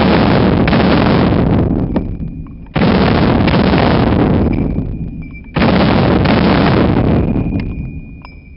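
Three loud, close gunshots from a gun fired in the prone shooting position, evenly spaced a few seconds apart, each with a long booming decay that fades before the next shot.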